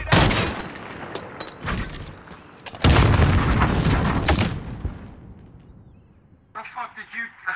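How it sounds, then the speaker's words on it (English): Grenade blasts and gunfire in the game Call of Duty: Modern Warfare, loud booming explosions with rumbling decay and bursts of shots, a player's voice talking between them. "Grenade out!"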